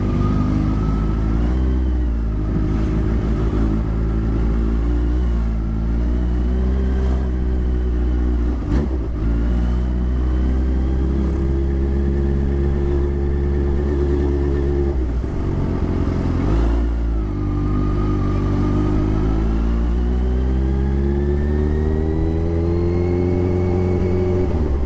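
Slow-moving traffic jam on a road, with a close engine droning and revving through gear changes, the hum rising and falling over a steady bed of surrounding vehicle noise, no voices.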